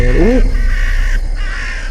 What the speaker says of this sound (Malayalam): കാക്ക തന്നെയാണ്